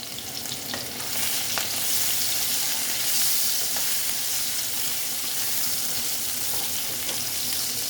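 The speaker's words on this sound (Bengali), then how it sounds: "আলুটা একটু ভালো মতন আমি ভেজে নেবো" Potato pieces frying in hot oil with a little turmeric, a loud, even sizzle that holds throughout at close range, broken by a few faint stirring clicks, with no talking.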